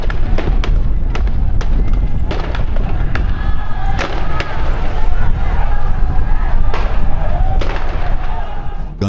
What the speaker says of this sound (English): Gunshots rang out